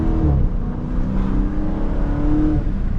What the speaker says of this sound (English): That's how you know I'm literally full throttle in the car right now every time I do that shit.